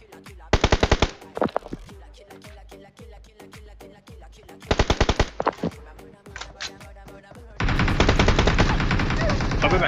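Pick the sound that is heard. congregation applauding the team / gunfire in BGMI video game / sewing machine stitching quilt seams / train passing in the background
gunfire in BGMI video game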